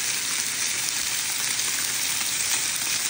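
Seasoned Pacific halibut set into a hot pan, giving a steady, loud, close sizzle that holds evenly for a few seconds with no talking.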